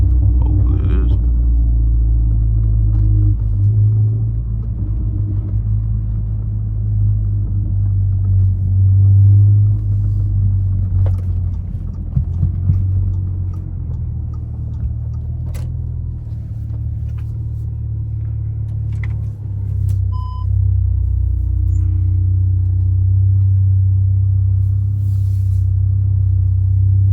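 Steady low rumble of a car engine fitted with a CTS turbo inlet while driving, with a deep droning tone and faint road noise throughout and no talking.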